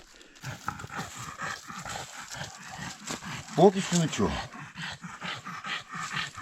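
Dogs panting and running about close by with rustling footfalls while mushroom foraging, as a person speaks briefly over the activity.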